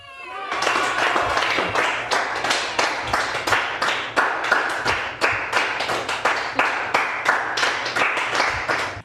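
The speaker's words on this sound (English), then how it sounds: "everybody aggressively claps at her" A crowd at a surprise birthday party in a haunted house film claps hard and fast, a steady run of loud close hand claps going on for several seconds with no break.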